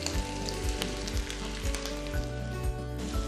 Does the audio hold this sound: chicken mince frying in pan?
yes